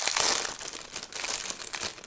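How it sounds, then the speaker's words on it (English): Plastic packaging holding tiny styrofoam bowls crinkles and crackles steadily as it is handled up close, a dense continuous rustle with brief louder crunches. "I'm sorry for the crinkly noise."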